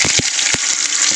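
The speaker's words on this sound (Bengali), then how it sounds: "আলুগুলো দিয়ে দিয়েছি, আলুগুলো এবার একটু ফোড়নের সাথে ভালো করে ভেজে নেব" Small diced potatoes frying in oil with cumin and dried red chilli tempering give a steady, loud sizzling hiss broken by a few soft stirring knocks.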